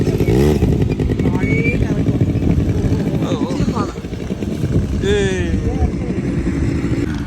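Quad bike engines idle and rev steadily at a desert safari in Al Kharj, Saudi Arabia, a continuous loud close drone with shifting pitch as bikes pass, with people's voices mixed in.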